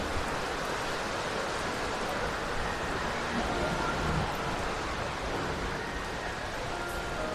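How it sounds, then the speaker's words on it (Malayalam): Heavy thundery rain pours steadily during a journey through Kuttanad, Kerala, a dense continuous hiss close by with no break across the whole stretch. "വീണ്ടും മഴ."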